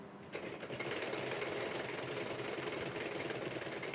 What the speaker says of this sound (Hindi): तो अब हम अपना हैंडल घुमाते हैं और सिलाई शुरू